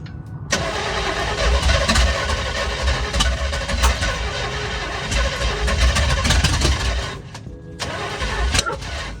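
Big block V8 in a Chevrolet C10 truck cranks and fires up, running loud and rough close by with a steady heavy rumble, a brief dip in the roar near the end before it picks up again.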